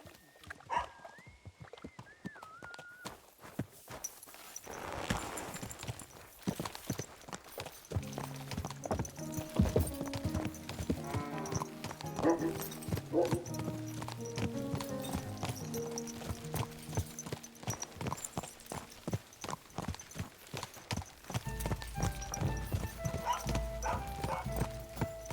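Steady clip-clop of horse hooves at a trotting rhythm in Kingdom Come: Deliverance II, accompanied by game music and ambient effects, with a brief vocal sound at the start.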